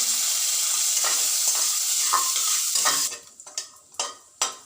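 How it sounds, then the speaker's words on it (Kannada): Cashews frying in a little ghee in a pan for shavige payasa give a steady loud sizzle with stirring scrapes. About three seconds in the sizzle drops away, leaving a few separate scraping knocks. "ಅರ್ಧ ಚಮಚ ತುಪ್ಪ ಹಾಕಿದ್ದೀನಿ. ಇದಕ್ಕೀಗ ಗೋಡಂಬಿ ಹಾಕ್ತಾ ಇದ್ದೀನಿ."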